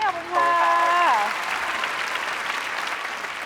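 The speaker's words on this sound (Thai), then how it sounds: "ขอเสียงปรบมือดังให้กับพี่ยุ้ยครับ" Studio audience applauding a contestant on the Thai game show Davinci after a 54,000 baht win; a brief synth jingle opens, then steady clapping holds at moderate level, with some speech present.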